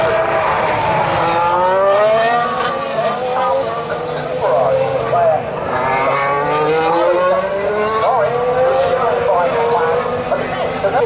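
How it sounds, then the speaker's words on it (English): Formula 4 race cars scream past one after another at a Formula 1 American Grand Prix circuit, loud high-pitched engines rising and falling in pitch as they pass, with a crowd murmuring underneath. "we're getting the first race now, Formula 4 race. There's going to be a bunch of cars, and here they come"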